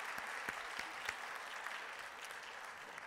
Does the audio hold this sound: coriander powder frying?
no